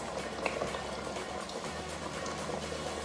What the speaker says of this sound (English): I'm just letting it simmer and reduce a little bit. And now that it's been boiling